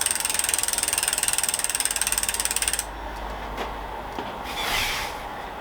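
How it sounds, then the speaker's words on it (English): Freewheel ratchet on a Giant Fathom E+ mountain bike ticking in a fast, steady pawl clatter for about three seconds, close and clear, then stopping, followed by faint handling noises. "see how the ratchet's going."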